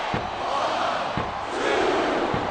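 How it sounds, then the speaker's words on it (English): The arena crowd in WWE SmackDown vs Raw 2007 roars and chants steadily, a dense, loud wash of noise with a few sharp thuds from the ring punctuating it. "I'm not sure I agree with what the crowd is chanting"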